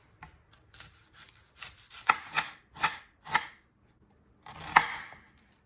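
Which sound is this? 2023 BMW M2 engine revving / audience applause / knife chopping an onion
knife chopping an onion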